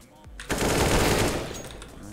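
Loud burst of automatic gunfire in the video game CS:GO, a continuous rapid spray of close shots lasting about a second and a half before tailing off.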